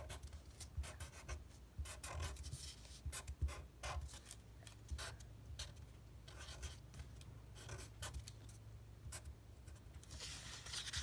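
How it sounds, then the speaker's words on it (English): Pen or marker writing by hand on paper for a homemade Father's Day craft, a steady close scratchy rubbing with short strokes and brief pauses, fairly quiet and with no talk. "right now I'm just gonna write thank you."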